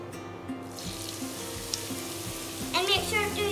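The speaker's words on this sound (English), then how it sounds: "let the oil heat and add onions" Onions dropped into hot oil for karela chicken fry with a steady close sizzle that swells and crackles more loudly near the end, with no voices.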